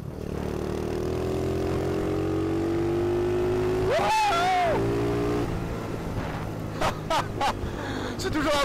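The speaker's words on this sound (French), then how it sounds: "C'est toujours un plaisir de conduire cette moto" A Dax motorcycle engine hums steadily while being ridden, its pitch slowly rising as it accelerates, with wind noise throughout and a voice speaking briefly near the middle.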